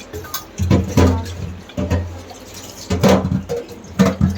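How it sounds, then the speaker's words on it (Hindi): Milk-heating dishes washed under running water at a home sink, splashing bursts and drips in several separate spurts, close and fairly loud, with no talking. "मैं कर लेती हूँ ये वाले बर्तन साफ"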